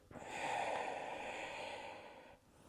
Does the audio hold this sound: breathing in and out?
yes